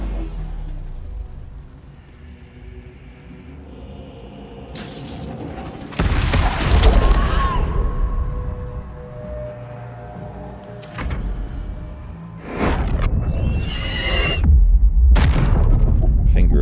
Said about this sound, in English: Let's just hit him with the magic missile.